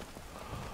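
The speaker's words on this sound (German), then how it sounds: "Und es fängt echt an zu regnen" Rain falls steadily in the video game Skyrim, a brief dense hiss of drops pattering on surfaces, even and unbroken, with no voices.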